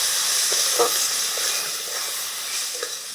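Mango pulp poured slowly into a hot pan, sizzling with a constant hiss and several soft stirring scrapes, near and moderately loud, no talking.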